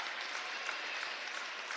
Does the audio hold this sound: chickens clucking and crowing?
no